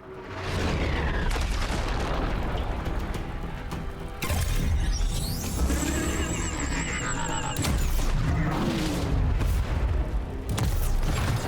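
Heavy bombing-run explosions in the Earth vs Mars real-time strategy game: a continuous, loud barrage of booms and crashing blasts with rumbling bursts, near and dense, over dramatic game sound for the whole stretch.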